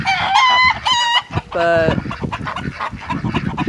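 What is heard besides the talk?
roosters and chickens crowing and clucking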